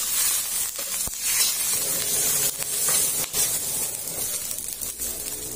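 Sweet soy sauce and a little water hiss and sizzle steadily in a hot pan with crab, a continuous broadband frying spray with a few sharp crackles, close and fairly loud throughout.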